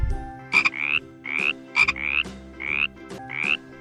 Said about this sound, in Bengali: ইঙয়ে ব্যাঙ।